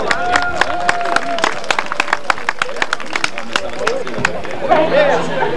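Outdoor crowd gives an ovation for Sète water jousters on boats at Villeneuve-sur-Lot, 1997: dense, steady clapping with sharp individual claps, cheering and crowd chatter throughout, loud and close.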